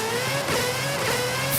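A turbocharged Mazda Miata engine revs steadily and loudly from close by, a sustained buzzing drone rising slightly in pitch with no speech.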